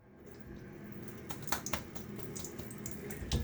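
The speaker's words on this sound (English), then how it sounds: "let's throw in a little bit of water" Tap water runs steadily into a sink during a wet shave, a soft close splashing stream with a few brief louder spatters.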